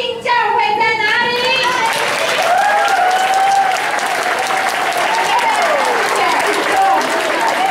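Gospel concert audience breaks into loud, continuous applause after a brief voice at the start, the dense clapping holding steady to the end with talk over it.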